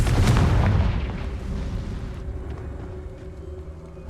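In the Hogwarts Legacy video game, a Confringo fire spell explodes with a loud, deep booming blast that rolls away into a long, fading rumble, with no one speaking.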